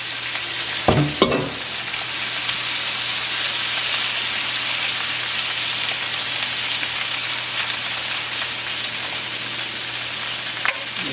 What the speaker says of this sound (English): Okay, my butter's melted. I'm gonna add my potatoes in.